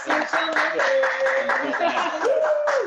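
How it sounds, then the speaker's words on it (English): A few sharp claps from a single person on a talk-radio podcast, spaced unevenly and sitting under continuous close speech. "let's give them a clap, you guys"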